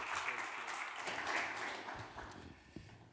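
An audience at a forum in Ljubljana applauds to welcome the vice mayor, a steady, distant wash of clapping that thins out toward the end, with faint talk beneath.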